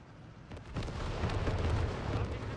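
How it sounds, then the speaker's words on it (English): Artillery strikes in Company of Heroes 3, a rumbling barrage of deep booms building and sustained, dense and fairly loud, with no talk. "More artillery being dropped here."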